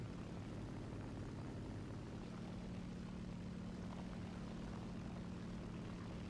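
A P-47 fighter's piston engine and propeller in War Thunder drone in a steady, even roar at high altitude, holding constant without breaks.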